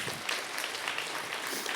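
Audience applause at an Indigenous engagement conference survivors circle, a steady wash of many hands clapping, moderately loud and continuous throughout without a break.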